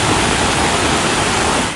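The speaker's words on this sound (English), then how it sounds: "A waterfall outside the water park at Manly." Floodwater pours as a waterfall outside the Manly water park in Sydney during heavy rain, a loud, steady broadband roar that fills the whole stretch and only eases slightly at the very end.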